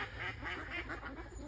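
Young ducks on a shoot estate quack in a steady run of rapid calls, faint and somewhat distant, with no talk over them.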